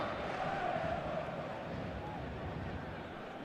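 Stadium crowd noise from the eFootball video game, a steady dense roar of a capacity crowd before a PSG versus Inter Champions League match, continuous and fairly even throughout.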